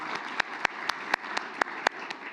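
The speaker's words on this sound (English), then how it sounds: "Give them a round of applause, the organisers, Craig, Michelle and Cam" An audience gives the organisers a modest round of applause, with a few sharp, evenly spaced claps standing out over a steady patter of smaller clapping nearby.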